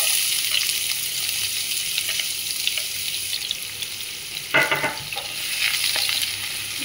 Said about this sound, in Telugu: ఇప్పుడు మనం ఆనియన్స్ యాడ్ చేసుకుందాము.